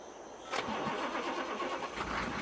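A vehicle engine in Farming Simulator 22 cranks and catches, settling into a steady mid-pitched running rumble, heard alone and close.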